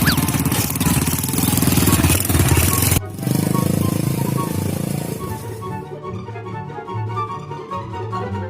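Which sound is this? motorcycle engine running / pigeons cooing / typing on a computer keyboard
motorcycle engine running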